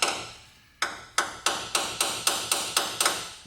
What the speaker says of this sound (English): now I'm tapping it in, because the tapping will make it to grab on that broken bolt